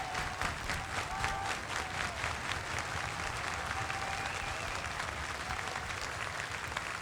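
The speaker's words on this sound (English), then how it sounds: "I wonder why they left such a long outro of just the applause." Dense crowd applause from a concert recording, a steady, distant wash of many hands clapping with scattered cheers, sustained evenly throughout without any talk.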